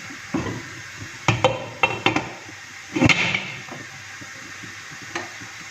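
A lid goes onto a pot of milk heating for rice kheer, giving a handful of sharp metallic clinks and clatters at close range over a quiet background. No talking.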